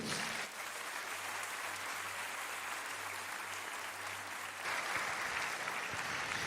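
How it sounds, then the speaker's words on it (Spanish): A church congregation claps together in sustained, even applause at moderate distance, continuing throughout with a brief surge near the end, no speech over it. "Vamos a darle un aplauso a Dios."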